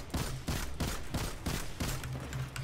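The Nameless Midnight scout rifle in Destiny 2 fires about ten sharp, punchy shots in a quick, even cadence, loud and close with no voices.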